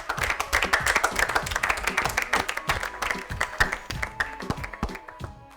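A small group claps loudly after a correct answer in a children's quiz game, the individual hand claps distinct and rhythmic, close and lively, thinning slightly toward the end.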